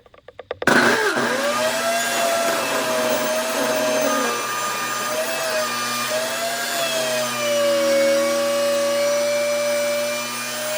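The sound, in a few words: table saw milling firewood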